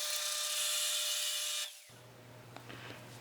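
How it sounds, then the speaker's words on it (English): Power drill boring aluminum with a 1-inch bit, running loud and steady with a high whine for over a second and a half before spinning down, followed by a low hum and a few light clicks. "This is a 1-inch drill bit"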